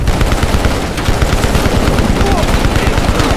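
Rapid automatic gunfire from Call of Duty Black Ops Cold War in an urban street battle, loud and sustained bursts with overlapping shots throughout.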